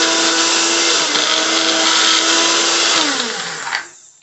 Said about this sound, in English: we're going to put it in the blender and just let it blend up